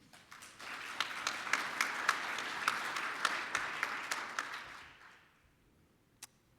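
Audience applause welcoming a speaker at a vehicle-safety educational session, a steady burst of clapping with a few sharp claps on top, fading out after about five seconds into near quiet.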